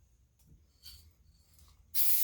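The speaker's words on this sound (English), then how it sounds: "is you spray your backing" A short burst of spray basting adhesive hisses onto quilt backing for a Christmas table runner, following a few faint rustles in an otherwise quiet room.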